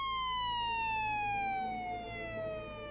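An ambulance siren arriving at a road accident scene where a motorcyclist lies injured on the pavement, a steady high wail slowly falling in pitch and holding loud and close throughout.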